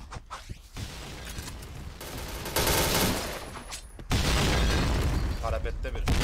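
Gunfire in a shooter video game: dense, noisy bursts of rapid shots and booms that swell and break off, with a voice talking over them.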